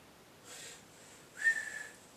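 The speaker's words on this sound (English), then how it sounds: "the whistle is actually called the storm whistle. It's the loudest whistle I've ever heard." A storm whistle gives two short blasts: a breathy, softer first toot, then a louder, shriller second one that trails off, with nothing else in the background.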